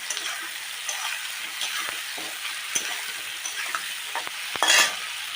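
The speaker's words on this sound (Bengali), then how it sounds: "এবার এটা আমি আলুগুলো দিয়ে ভালো করে ভেজে নেব" Potatoes tossed into a pan of already fried onions sizzle steadily, with scraping stirs and a few sharp clinks of a spatula, one louder rattling burst near the end.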